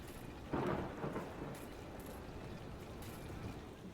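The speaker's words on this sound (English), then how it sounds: "It's raining." Steady rain with thunder rumbling in an amusement park video game, a louder burst early on settling into continuous downpour with no voices.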